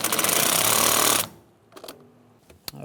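Power ratchet or driver running on an 8 mm hose clamp with an extension, during inner tie rod work on a 2003-2011 Honda Element: a loud buzzing rattle for just over a second, then stopping, followed by faint clicks and taps.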